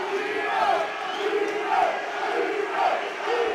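A crowd cheers and roars for MMA fighter Dean Hawkins at a fight-night event, a sustained loud wall of voices with rhythmic chanting swells rising and falling about once a second.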